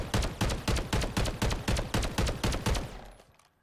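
An MCW 6.8 rifle fires in the video game Modern Warfare, with about a dozen loud, evenly spaced shots in a steady rhythm. Each crack ends sharply, and the last shot fades out at the end.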